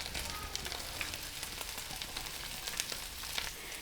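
Pieces of chicken and carrots fry steadily in a pan, giving a soft, continuous sizzle with faint crackles and no talking.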